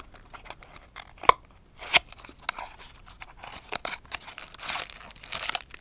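Packaging is opened around a limited-edition silver chrome-plated Tomica Corolla 30 Levin toy car, with two crisp scissor snips followed by crinkling and tearing of plastic and paper, close and fairly quiet.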